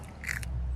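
A crisp sugar snap pea pod is bitten, one short crunchy snap heard close up over a low outdoor rumble, then quiet chewing fades.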